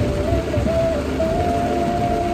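Heavy rain pours steadily and close by, a dense wash of hiss with no break, and a faint thin tone runs above it.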